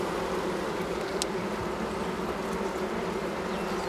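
Faint, steady buzzing of honeybees in an open beehive while the bees are mostly out foraging. The drone holds an even, continuous hum, with a single brief clicking tick.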